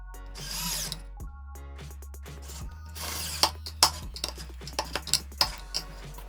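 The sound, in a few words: screw being driven in to fix a washer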